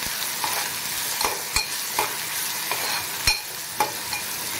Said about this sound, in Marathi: एक मोठा बारीक चिरलेला कांदा, तर कांदा आपल्याला अगदी गुलाबी होईपर्यंत भाजून घ्यायचा आहे।